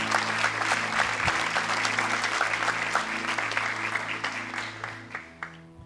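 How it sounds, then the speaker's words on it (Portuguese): A church congregation claps loudly and continuously during a service, with sustained organ or keyboard chords underneath; the applause thins into a few last claps at the end. "Dê um aplauso bem forte a Deus"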